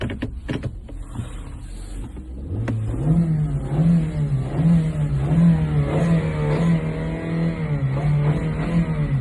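A 2018 Kia K5 sedan with a 2.0-litre LPG engine and six-speed gearbox starts after a couple of seconds of quiet, then settles into a steady, close, low idle hum that runs to the end.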